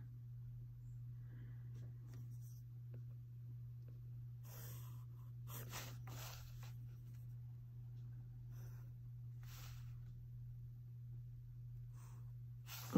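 A pen or pencil scratches across paper while drawing out a sign in a one-point perspective subway train sketch, in a few short soft strokes over a steady low hum in a quiet room.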